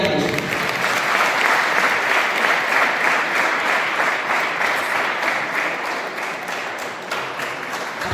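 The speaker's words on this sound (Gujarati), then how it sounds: "આપણે તાળીઓથી વધાવી દઈશું" Sustained audience applause at a school prize event, where state-level first-place students are honoured, with dense steady clapping from a large crowd throughout and faint voices underneath.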